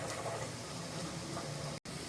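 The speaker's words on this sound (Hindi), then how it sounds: "इसको भी इसके साथ फ्राई कर लेंगे।" Onion and cumin frying in oil in a pan, a soft, even sizzle that hisses steadily throughout with a brief dropout near the end.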